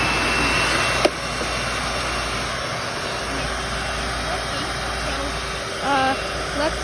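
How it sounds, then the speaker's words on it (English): A Panasonic MC-V7325 upright vacuum cleaner with a headlight runs indoors as a steady, loud, continuous whir, with a brief click near the start and faint voice-like blips near the end. "Okay, let's get vacuuming."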